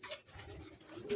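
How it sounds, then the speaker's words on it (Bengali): Large pigeons in a loft cooing softly, a few low throaty coos heard faintly and close over quiet background noise. "এই যে বিগ সাইজের কবুতর, খুব বড় কবুতর"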